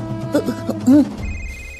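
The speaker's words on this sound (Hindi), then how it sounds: "ये ले, तारे बाप ने फोन मिला दिया।" A telephone rings with a steady electronic tone after some brief murmured voice sounds at the start.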